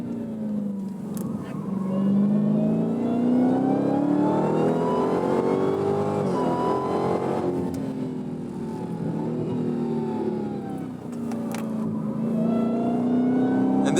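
A Dodge Challenger Black Ghost muscle car, well over 4,000 pounds, accelerates hard around a race track, its engine note rising and falling steadily through the gears and turns, loud and close throughout with no talk.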